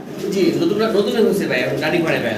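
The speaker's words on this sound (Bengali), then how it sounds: "এখানে চমৎকার শ্যালো শ্যালো কবুতর একটা হোয়াইট সাইড একটা হলো ব্ল্যাক সাইড" Fancy pigeons coo nearby in low, throaty murmurs, mostly under a voice talking over them.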